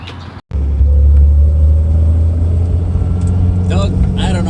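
A Datsun 240Z being driven, its engine rumbling loud and steady after a brief gap, with speech over the drone.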